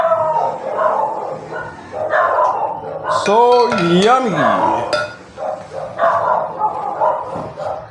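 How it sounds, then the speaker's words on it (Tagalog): Dogs bark and yip beside a roadside while children play with spinning tops nearby, short bursts mixed in with people talking over the sound. "nagkakaingay din ng mga aso"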